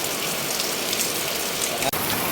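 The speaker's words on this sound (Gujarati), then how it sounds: "વરસાદ એવો જોરદાર આવે છે" Heavy rain pours steadily in a dense, even hiss, loud and close, with no voices.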